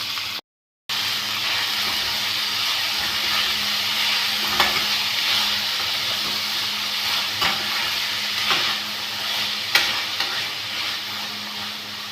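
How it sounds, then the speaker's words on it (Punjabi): Onion, green chili and tomato fry in a garlic-ginger tempering inside a clay pot on a gas stove, a steady close sizzle and hiss running throughout with occasional stirring scrapes, after a brief silent gap at the start. "ਹੁਣ ਆਪਾਂ ਆਪਣੇ ਤੜਕੇ ਨੂੰ ਬ੍ਰਾਊਨ ਹੋਣ ਤੱਕ ਭੁੰਨ ਲਾਂਗੇ"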